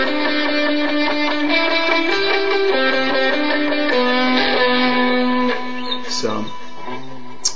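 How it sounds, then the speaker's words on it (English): An electric guitar plugged straight into a PA, drenched in delay and distortion, rings out sustained, overlapping chords and notes with echoing tails in a steady, close wash that thins near the end. "good delay and distortion on the guitar."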